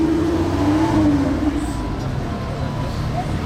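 A new Lotus sports car engine rumbles and revs nearby in the street at Monaco, a steady loud drone that rises in pitch briefly before settling back.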